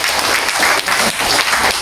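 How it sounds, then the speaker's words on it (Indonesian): An audience at a World Rivers Day ceremony in Tuaran breaks into brief, close, dense clapping that fills the whole moment. "Bagi tepukan."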